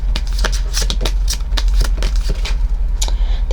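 Tarot cards being shuffled and drawn, close rapid riffling and papery flicks in quick bursts, loud and continuous against a low steady background hum.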